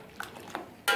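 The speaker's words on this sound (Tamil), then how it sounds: "நல்லா கிண்டி விடுங்க." A spoon scrapes and clinks against a pot while boiling milk is stirred for basundi, a few soft isolated strokes followed by one sharper metallic clatter at the end.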